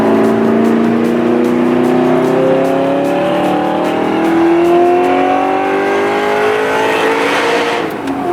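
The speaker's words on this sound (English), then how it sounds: "My car is so loud in the morning there." An Audi R8 sports car engine runs loud and close, droning at a high idle with tones that climb and dip slightly. Faint rapid ticking sits underneath, and the sound eases just at the very end.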